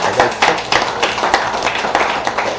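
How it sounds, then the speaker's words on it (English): An audience bursts into applause for the evening's host, a dense patter of claps that stays steady and fairly loud across the short stretch, with no talking over it. "let's give a big round of applause for your host tonight, Steven Zane."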